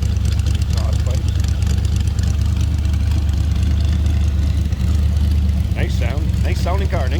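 A 1933 Ford Victoria street rod with a 4-barrel carburetor and side exit exhaust pipes idling loudly and steadily with a deep rumble, a voice talking over it near the end.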